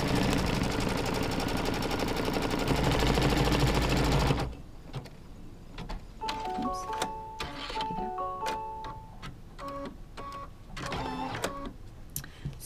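A sewing machine stitches a quilt block in short bursts after a loud, dense opening stretch, its rapid needle clatter starting and stopping several times at moderate, close range.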